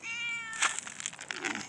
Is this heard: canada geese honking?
no